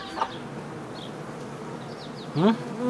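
Steady buzzing of honey bees hums throughout, joined by a couple of brief clucking calls near the end.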